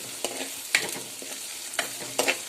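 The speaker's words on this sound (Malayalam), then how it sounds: "ഇഞ്ചി ഇത്രയും സംഗതികൾ ഇട്ട് കൊടുക്കും എന്നിട്ട് ഒരുവിധം നന്നായിട്ട് വഴറ്റി കൊടുക്കും" Green chilli, curry leaves and ginger sauté in a pan for a mock fish curry made with ivy gourd, giving a steady close sizzle broken by several sharp stirring scrapes, with no talk.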